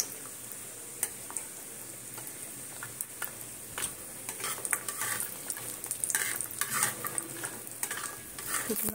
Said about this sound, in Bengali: প্রথমে আমি বড়িগুলোকে সুন্দর করে ভেজে তুলে নেব।